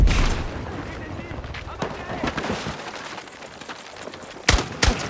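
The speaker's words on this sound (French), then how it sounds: "Une grenade" Grenade blasts and gunfire fill a Battlefield 6 firefight, with dense shooting throughout and two loud, sharp booms close together near the end.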